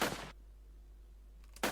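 Minigun bursts in the video game Santa's Monster Shootout, a short loud rattle of rapid fire at the start, a quiet gap, then another burst kicking in at the end.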